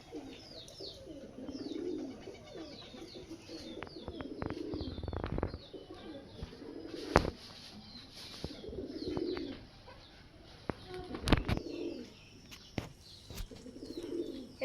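Pigeons in a loft coo again and again in low rolling bursts, with occasional chirps, a few wing flaps and knocks close by.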